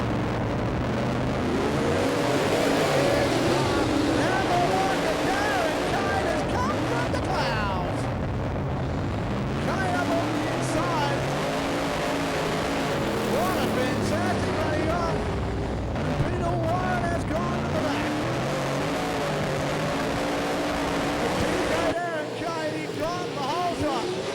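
Super sedan race cars roar around Gympie Speedway dirt oval in Queensland at the start of an eight-lap race, a continuous loud mass of engines rising and falling as the pack passes, under a commentator's voice.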